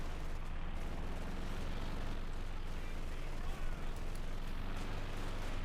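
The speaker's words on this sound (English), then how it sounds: "we got a bombing strike in here from him" Bombing strike explosions in Company of Heroes 2 form a dense, continuous roar of blasts and rumbling booms, loud and sustained with no pauses, without any talk.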